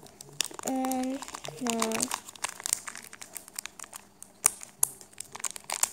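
Plastic wrapper on a Shopkins toy crinkles and rustles in short, close bursts of handling, with a person speaking briefly near the start.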